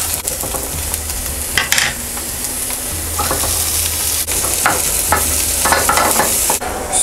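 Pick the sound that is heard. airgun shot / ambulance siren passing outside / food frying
food frying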